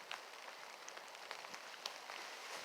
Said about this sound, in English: Hopefully the rain will let up a little.